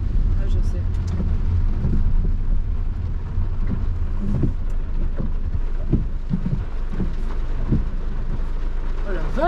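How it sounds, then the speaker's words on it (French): Steady rain falls in a continuous broadband hiss that stays constant throughout, while people talk over it. "Putain, mais il pleut en plus"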